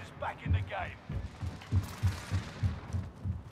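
Heartbeat sensor effect in a video game, a steady run of low thumping pulses about twice a second, with brief voices at the start and a background hum.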